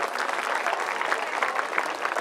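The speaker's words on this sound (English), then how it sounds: "May we get a massive round of applause for our sponsors, please." A crowd at a sports team kit handover evening at a country club applauds, producing a brief, steady burst of dense clapping at moderate loudness with no speech over it.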